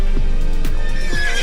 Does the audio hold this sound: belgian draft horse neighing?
yes